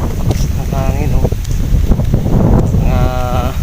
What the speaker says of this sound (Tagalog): Ang hangin oh.